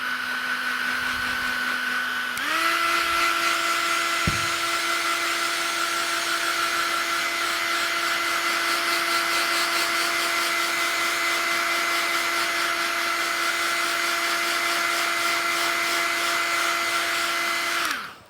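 A hair dryer blasts steadily across a watercolour page being dried for a granulation-spray painting, switching up in pitch after a couple of seconds and holding a loud, constant whine and rush for the rest before cutting off.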